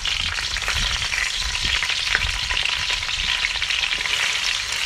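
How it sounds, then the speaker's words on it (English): Chopped onion fries in hot oil for a stew, a dense, even sizzle running throughout with soft stirring scrapes underneath. "I put some chopped onion inside."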